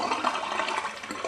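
Water emptied out of a water filter being cleaned, a continuous splashing, pouring rush close by with no voices.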